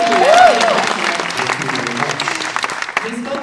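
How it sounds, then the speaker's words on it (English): Audience applause at BlumFest 2023 at Universal Studios Orlando, steady clapping from a crowd filling the whole stretch, with a voice speaking over the start. "yeah, you can applaud for that"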